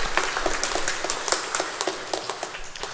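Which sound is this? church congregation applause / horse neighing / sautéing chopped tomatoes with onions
church congregation applause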